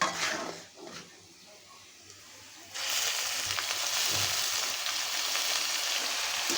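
Mixed leafy greens hit a hot pan for a spicy Bengali five-green dish. A few quiet pan clatters give way to a sudden loud, sustained sizzle that holds steady to the end.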